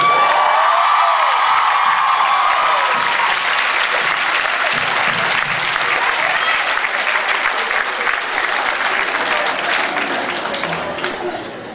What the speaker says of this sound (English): Get a round of applause for the Moose